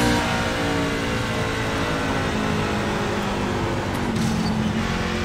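NASCAR race car engine in the iRacing video game at Darlington, a dense continuous roar holding steady throughout with slight pitch shifts, loud and unbroken.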